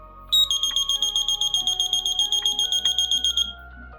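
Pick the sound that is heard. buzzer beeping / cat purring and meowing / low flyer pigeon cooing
buzzer beeping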